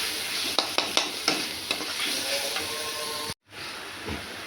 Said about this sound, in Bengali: হলদি করে দিয়েছি, এবার নাড়ছি।